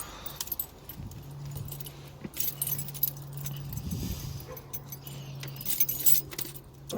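Metal keys on a ring jangle and clink repeatedly up close while being used to pull hose tabs on a 4.4 V8 Range Rover L322 engine, bursts of rattling over a low steady hum.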